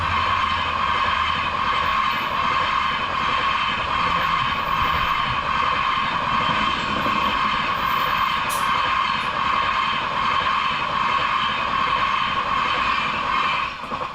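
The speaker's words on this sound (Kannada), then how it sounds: "ಅಂತೂ ಇಂತೂ ಟ್ರೈನ್ ಬಂತು" A train roars past a level crossing on a South Indian road trip, a loud, continuous rumble and rattle of wagons that holds steady throughout and stays close and unbroken.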